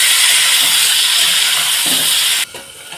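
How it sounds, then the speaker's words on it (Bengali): Potatoes and pointed gourd frying in a pan make a loud, steady hiss close by that drops off sharply near the end as the sizzle fades. "দেখুন, এইভাবে আমি একটু ভালোভাবে ভেজে নেব আলু আর পটলটাকে।"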